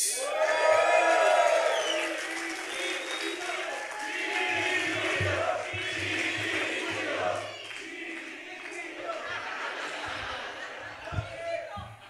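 A studio crowd on a comedy show cheers, whoops and laughs to welcome a guest, lively and loud, with people talking and shouting over the noise and a low rumble of music beneath.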